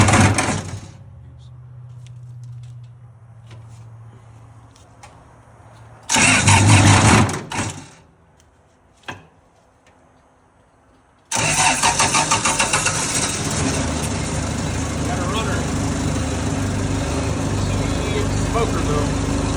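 A CASE 1835B skid steer engine cranks briefly and catches, sputters once more, then fires up and runs steadily at a loud, close idle; a low hum and a short thump sit in the quieter gap between attempts.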